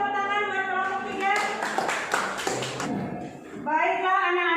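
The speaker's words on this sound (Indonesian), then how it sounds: "Kasih tepuk tangan buat kelompok 3." A classroom of children claps for group 3 after their presentation, a short burst of scattered claps framed by a sung or chanted voice before and after.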